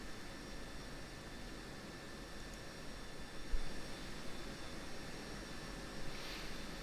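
F-16C fighter jet engine idling and rolling along a taxiway in DCS, a steady broad roar with a constant high whine, continuous and fairly close with slight surges in level.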